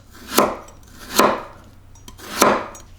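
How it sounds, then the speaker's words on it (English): A knife cuts a carrot into julienne strips on a board, giving three loud, crisp, evenly spaced chops close by, with quiet pauses between them. "I'm going to cut them into like little strips,"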